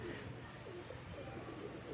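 Pigeons flocking in strong wind give low soft coos under a constant rushing wind noise, fairly close but partly masked.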